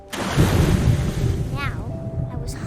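Ocean waves and surf from the video game What Remains of Edith Finch, a broad rushing wash of water with windy whoosh, close and fairly loud, easing off toward the end.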